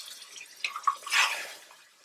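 Water poured into a curry masala of tomatoes and spices in a pan for an egg and potato curry, heard as a few soft splashing drips and a brief pouring gush, close and fairly quiet with no talk.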